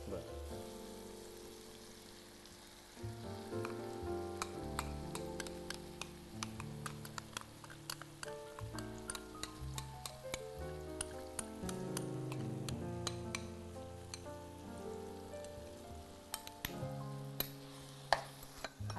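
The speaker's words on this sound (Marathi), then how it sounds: "वाटण याच्यामध्ये चांगलं परतून घ्यायचं आहे" Ground masala paste sautéing in a pan for Mangalorean chicken, a steady sizzle with ticking spoon scrapes and stirring under background music, close and fairly loud.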